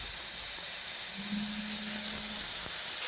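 Onion goes into hot oil already frying with whole spices such as cardamom, and it sizzles with a steady, close hiss. No one speaks.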